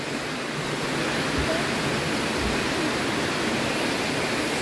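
Waterfall near a bamboo treehouse resort, a steady broadband rushing roar heard from a distance, even and unbroken throughout, with no talk.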